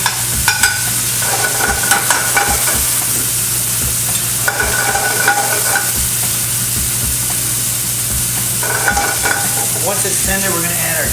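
Garlic, chili flakes and anchovies sizzle loudly in a pan while being stirred, a steady frying crackle broken by repeated scraping strokes of a utensil, heard up close with no talking.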